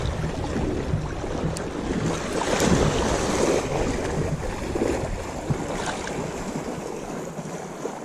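Sea waves wash around a small fishing boat on a choppy day, a broad rushing surge with wind buffeting the microphone, rising and falling in loose swells.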